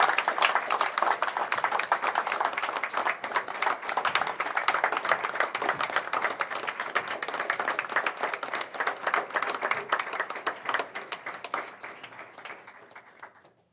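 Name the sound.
round of applause for spelling bee winners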